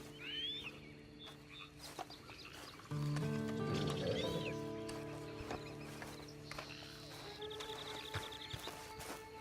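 A horse in the video game Red Dead Redemption 2, soft hoof clops and a brief snort or whinny amid ambient outdoor game sounds, with birds and frogs in the background, no talking.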